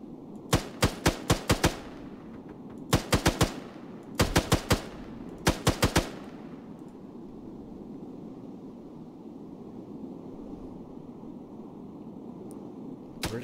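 Bursts of automatic gunfire in an Arma 3 firefight: four rapid volleys of four or five sharp shots each, fairly close, followed by a low rumbling background with no further shots.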